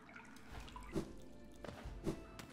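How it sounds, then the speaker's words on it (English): In the video game Hollow Knight, water drips in a quiet cavern, with three distinct drops falling at uneven intervals over a faint, low ambient hum. "Why do I hear water?"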